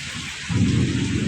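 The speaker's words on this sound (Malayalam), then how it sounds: "ഇപ്പം രണ്ട് മൂന്ന് ദിവസം കൊണ്ട് തമിഴ്നാട്ടിൽ നല്ല മഴ പെയ്യുന്നുണ്ട്" Steady afternoon rain in Tamil Nadu with a low rumbling swell partway through, continuous and fairly close.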